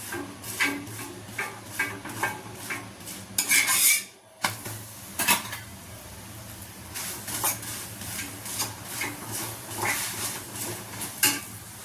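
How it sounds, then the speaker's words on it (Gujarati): Metal scrapes and taps on a hot iron griddle frying methi thepla flatbreads in oil come in a loose rhythm over a faint, continuous frying sizzle, close and moderately loud. "હવે આપણે એને તેલ એડ કરી તળી લઈશું"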